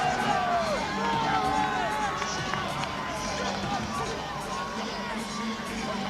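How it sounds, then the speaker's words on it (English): A boxing arena crowd cheers and whoops as Lennox Lewis comes to the ring, a dense sustained roar with scattered shouts and a commentator's voice running underneath. "The showbiz crowd giving Lennox Lewis a rousing reception as he comes to the ring"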